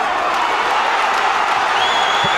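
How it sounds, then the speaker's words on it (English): Boxing arena crowd roaring and cheering at a lightweight bout as fighters trade, a dense, steady wall of loud crowd noise throughout with no break. "The crowd are on their feet here, urging Payne to go forward."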